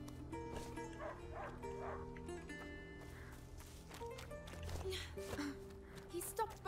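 A dog barks repeatedly while tracking a wounded boar in the video game A Plague Tale: Innocence, amid game music and ambient sound, with a voice speaking over it; the barks are moderately loud and irregular.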